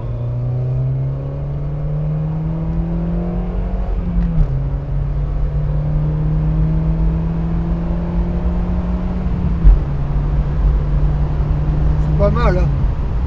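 A Peugeot 206 CC S16 accelerates hard through the gears from inside the cabin, the engine note climbing loudly and dropping at two distinct gear changes before pulling up again.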